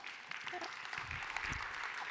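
Audience applause at a business conference session, a steady wash of clapping at moderate level that holds for about two seconds with no clear gaps.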